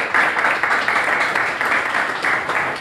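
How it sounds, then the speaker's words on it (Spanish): Applause for a guest lecturer at a church-affiliated centre event, a steady dense wash of many hands clapping close by with no pause, and a faint trace of voices underneath. "darle un fuerte aplauso a quien nos acompañó como disertante"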